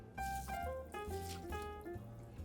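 Half a cup of water poured into a chicken casserole mixture with rice, green onions and chilies, producing a short, steady gurgling trickle with shifting bubbly tones, close and fairly quiet.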